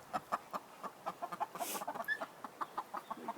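Chickens in a chicken coop give a run of short, rhythmic clucks, fairly close but soft, with one brief louder squawk midway. No one speaks.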